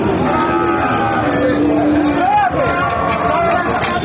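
Young calves of an Australian breed moo amid a busy cattle market, their calls rising over constant crowd chatter and nearby talking voices.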